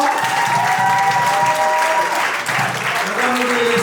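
Wedding guests cheer and applaud the newlyweds at the close of a French-language ceremony, loud, dense clapping with voices mixed in.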